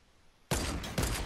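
A single sharp sniper rifle shot in Fortnite bursts out loud after a half-second of near silence, followed by a ringing tail and a second crack-like swell, with no talking.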